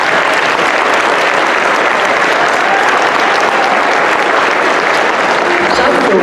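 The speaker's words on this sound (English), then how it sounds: "giving a big round of applause for these outstanding officials" Loud, sustained applause from a large crowd at a high school boys' basketball game, steady clapping filling the space for several seconds.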